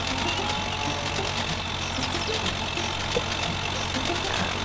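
Tractor in a Thomas and Friends farm game, a steady chugging engine idle with a low hum and faint rattling, constant and moderately loud, no voices.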